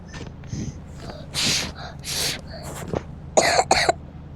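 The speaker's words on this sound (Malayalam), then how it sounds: "നല്ല ചുമയാണ്" A person coughs in a series of short, harsh, throaty bursts, about five or six spread unevenly over a few seconds, close and fairly loud, with the last pair the strongest.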